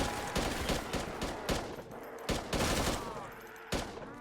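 A semi-auto gun fires repeatedly in a custom zombies video game map, sharp cracking shots spaced about half a second to a second apart, loud and close.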